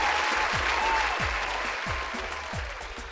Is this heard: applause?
yes